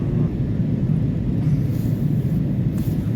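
A steady, low roar of an airplane cabin during flight fills the space, even and continuous with deep rumble and a faint airy hiss above it, no voices present.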